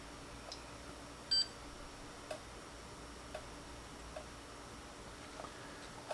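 A 1977 Sencore Super Mack CRT tester gives a single short, high electronic beep in an otherwise quiet room, with a few faint ticks scattered before and after it.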